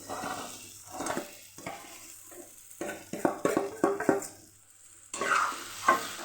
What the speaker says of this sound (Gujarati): સરસ મજાનો આ સતળાઈ ગયો છે મસાલો એમાં આપણે બટેકાને ઉમેરી દઈશું